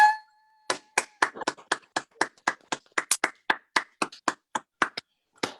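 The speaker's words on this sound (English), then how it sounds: "We'll do like an unmuted, like loud clap for all of that." Several people clap unmuted on a video call at a launch party, about twenty distinct, sharp claps in an uneven, slightly overlapping rhythm, close and clipped, with silence between them.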